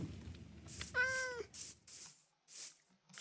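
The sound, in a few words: cat meowing in a video game (Minecraft)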